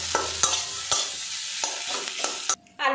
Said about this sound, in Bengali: খুন্তির সাহায্যে ম্যাশ করে নেব আলুটা।